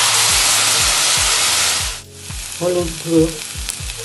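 Kohlrabi frying in a pan with onion and tomato: loud, steady hiss of sizzling oil that abruptly drops away, followed by softer frying and scraping stir strokes, with someone speaking briefly near the end.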